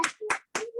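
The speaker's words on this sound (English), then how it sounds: "give me a clap, clap, clap, clap, clap, clap, clap, clap, clap for Heather" A comedy audience at a dive bar lets out a few quick sharp claps for a performer in short separated bursts.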